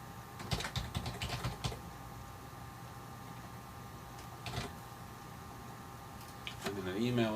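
Quick bursts of computer keyboard typing as a username is entered in an admin screen, a few clustered keystroke runs separated by quiet pauses, close and soft, with brief low voice sounds near the end.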